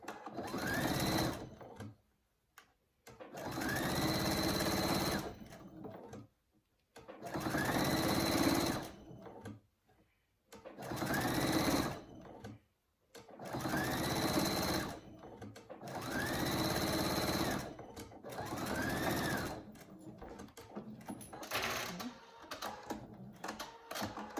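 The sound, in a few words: sewing machine top stitching fabric edge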